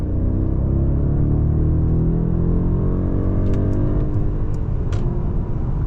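Muted engine drone of a Mercedes-Maybach S-Class with a V8 at full throttle on a French autobahn, heard from the insulated cabin as a steady, loud rising hum with road rumble and a few faint clicks.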